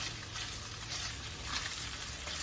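Beef sauteing in a hot pan over a raised flame for beef with string beans, giving a steady, even sizzle and hiss throughout with no talking.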